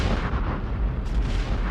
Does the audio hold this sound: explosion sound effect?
yes